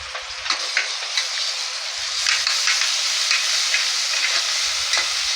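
Onions frying with garlic and ginger paste in a pan, a steady loud sizzle with a spoon stirring and scraping now and then, close and continuous with no talk.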